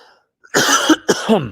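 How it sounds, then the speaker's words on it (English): Someone clears their throat twice, two short harsh bursts close to the microphone with a brief pause between them. "I'm gonna have to clear my throat again."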